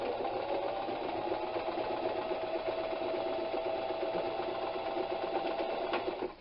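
Sewing machine stitching a Storm at Sea quilt block, running in a steady, fast mechanical patter at an even level close by, with no talking over it.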